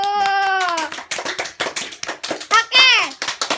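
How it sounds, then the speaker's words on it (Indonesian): Children clapping hands together in a classroom, a scattered burst of claps mixed with a voice and chatter in the room. "Ayo tepuk tangan dulu."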